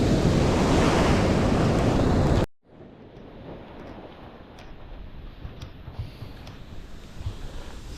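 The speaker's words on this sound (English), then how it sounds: "There are some pretty good-sized waves right now" Good-sized ocean waves break on a beach in a loud, roaring wash for a couple of seconds, then a quieter stretch of distant surf and wind follows after a sudden cut.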